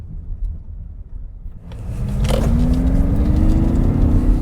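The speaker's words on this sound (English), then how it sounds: "It does have a very interesting noise, though. I've had friends describe it as a, let's see here, an airport tram" A 2022 Mazda MX-30 electric car accelerating, its motor whine rising steadily in pitch after a quieter start, with road and tyre rumble building underneath and no talking.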